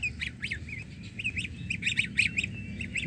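Young goslings on a farm giving repeated high, squeaky honks and peeps in quick irregular bursts, close by, over a low rumbling background.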